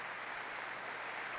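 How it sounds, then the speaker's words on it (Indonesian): A church congregation applauds during a sermon, producing a brief, dense and even wash of many hands clapping that carries at moderate volume without pause. "Berikan tepuk tangan yang meriah."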